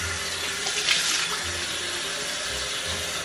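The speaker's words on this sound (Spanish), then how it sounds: "Se le echa poquitita agua" A little water pours steadily from a tap in a home kitchen while pozole is being cooked, a continuous close rushing splash that holds an even level throughout.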